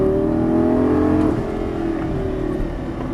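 A Lamborghini Gallardo LP550 engine drones loud and close on a racetrack, its steady tone shifting pitch partway through as the car accelerates, with no talk.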